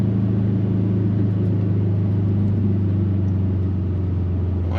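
A 2007 Subaru Forester STI SG9 engine pulls steadily up to the national speed limit, a strong low drone with a constant, close rumble and no talk over it.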